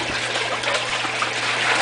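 Live tilapia netted from a lake are poured slowly into water, making a steady close trickling and splashing that continues without a break for a couple of seconds.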